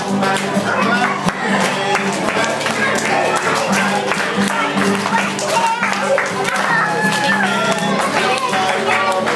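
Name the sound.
children clapping their hands at a school show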